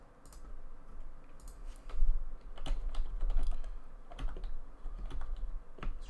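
Computer keyboard typing while coding, a quick irregular run of close clicking keystrokes with short bursts and brief pauses, no talking.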